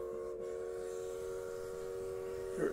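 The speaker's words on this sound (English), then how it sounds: "This is our trip on the Sugar Express, which is a steam engine train" A steam engine train on the Sugar Express, a two-hour excursion ride out of Clariston, gives a steady, sustained tonal whistle over a continuous low rolling rumble, with no voices.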